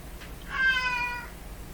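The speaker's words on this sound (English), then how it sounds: "I'll go play with the cat." A house cat gives a single clear, drawn-out meow, fairly close and moderately loud, rising out of a quiet room with no talking.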